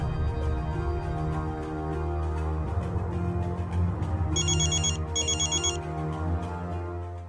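A telephone rings in two short electronic trilling bursts over a continuous musical score from a Hindi TV drama episode. The ringing is moderately loud and no one speaks.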